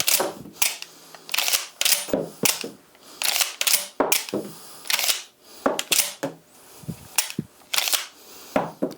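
Rapid sharp cracks from a Benelli M4 EXT semi-automatic shotgun, fired about nine times in quick succession at an even pace, each report loud and abrupt with short decay.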